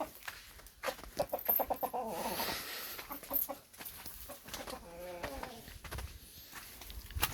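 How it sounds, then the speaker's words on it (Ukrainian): Six chickens grazing outdoors cluck and chatter close by in short, irregular bursts, with a few sharper calls rising above quiet background noise. "Чотири курки я бачу, чи п'ять навіть сюди прийшли"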